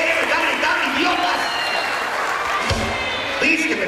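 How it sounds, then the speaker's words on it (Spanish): Crowd applauding and cheering for Mérida at the Feria de Yucatán in Xmatkuil, a continuous wash of clapping and voices filling the space, with a thump partway through. "El aplauso para Mérida."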